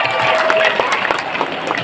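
Audience applause and cheering at the closing ceremony of Tanjungpinang Fest 2024 and the Festival Kopi Merdeka, a dense crowd sound filling the clip at steady loudness with faint voices mixed in.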